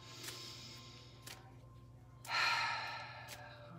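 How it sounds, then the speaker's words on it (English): One person takes a deep cleansing breath, a soft, close inhale and exhale that swells into a breathy rush after a few faint earlier breaths. "Taking a deep cleansing breath here"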